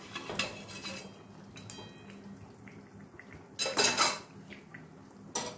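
Fried rohu fish pieces are added to a pot of simmering taro and potato curry, with scattered clinks and scrapes of a metal spoon against the pot and a couple of louder clattering bursts near the end.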